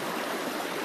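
Forest stream swollen after rain, a continuous close rushing and splashing of water, steady and fairly loud with no voices.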